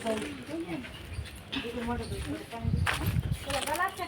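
A nearby dog whimpers and yelps in short bursts while people talk over it.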